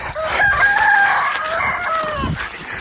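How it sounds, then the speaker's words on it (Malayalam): Rooster crowing at midday in a village in the Meghalaya forest, one long drawn-out crow close by, with faint background sounds and no talk. "നട്ടുച്ചയ്ക്കാണല്ലോ കോഴി കൂവുന്നത്."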